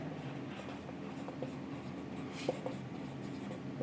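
Pen scratching on paper while an accounts problem on share issues is worked out by hand, a steady soft scraping with small taps, over a faint background hum.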